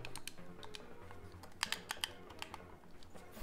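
Computer keyboard keys tapped in quick irregular bursts, close and fairly quiet over a low background hum, with a brief flurry of sharper clicks in the middle.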